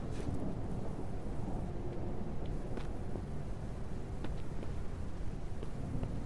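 Steady video game rain patters with low rumbling thunder underneath, occasional sharper drops ticking through, continuous and moderately distant, in Mist Survival.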